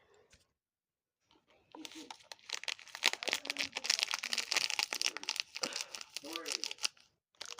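A packet of green sand-like powder is emptied into a small jar, giving a sustained crinkling, rustling pour that starts after a brief pause and continues loud and close for several seconds.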